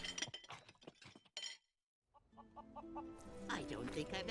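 Chickens clucking in a video game, a dense burst of squawks and clinking effects that drops into brief silence before game music and clucks return, loud and busy.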